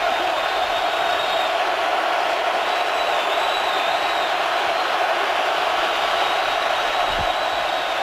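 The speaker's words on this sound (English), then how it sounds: "the hands over the ears signify this electric crowd noise" A loud, steady roar from a packed Seattle stadium crowd at a Seahawks football game against the Vikings, a constant wall of cheering and noise with no breaks.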